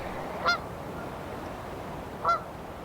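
Geese honk twice, about two seconds apart, moderately distant, beside the flowing Bow River on a frosty morning, with a soft steady water hiss underneath.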